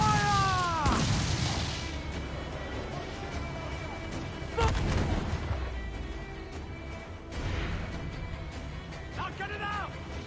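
Ship cannons firing in Assassin's Creed Black Flag, several heavy booming blasts spaced a few seconds apart with rumbling decay, mixed with shouting voices and game sound.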